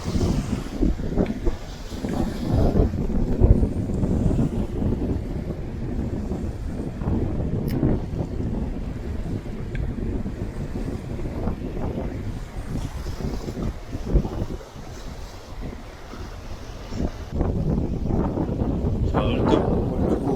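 Strong wind buffets the microphone while bass fishing from a boat at Cheonsu Bay in early summer, a continuous low rumble with gusts, and people talk under it at times.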